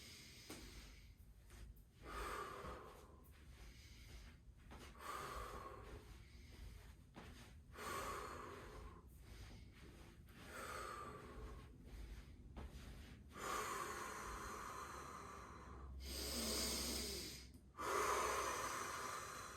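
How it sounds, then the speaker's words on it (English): Slow, deep breathing exercise done in rounds, with long audible inhales and exhales repeating about every two to three seconds, close and breathy with no talk over them. "This breathing practice, like I showed you earlier, can help you get your dizziness back to neutral."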